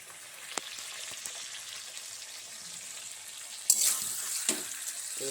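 Chicken frying in oil sizzles faintly before a splash of water hits the pan near the end, setting off a sudden louder hiss that fades into bubbling.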